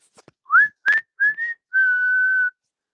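A single person whistles live during a Yankees vs Red Sox baseball game right after a strikeout: a few short rising chirps followed by one long sustained note, clear and close with no talk over it.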